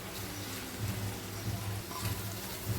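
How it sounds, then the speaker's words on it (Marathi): Ginger garlic paste sautéing in ghee in a pan for mushroom bhaji, giving a steady, soft sizzle that holds evenly throughout. "आले लसणाचं कच्चेपणा जायपर्यंत आपण परतत राहायचं"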